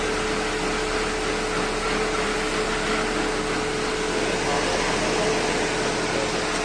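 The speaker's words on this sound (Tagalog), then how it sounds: "So gumagana na kanyang aircon, windshield, auxiliary fan." Car air conditioning and auxiliary fan running in a Nissan Sunny with a rough idle, a steady broadband whoosh and hum heard close and continuous throughout, with no talk.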